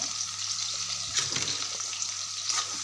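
Onions and chillies frying together in a pan for vegetable fried rice, a constant close sizzle broken by brief scraping stirs, with a low background hum.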